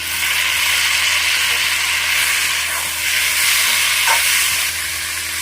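Chopped onion, garlic and ginger fry in hot oil, giving a loud, continuous close sizzle with a steady hiss and no voices.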